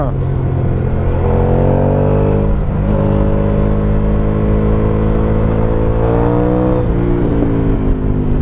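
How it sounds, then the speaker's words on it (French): An Aprilia 1200 Caponord motorcycle with its stock exhaust pulls hard on an open road, a loud, close engine drone whose pitch climbs and drops through gear changes, with a few faint crackles. "Le pot d'origine qui pétarade, mais c'est génial."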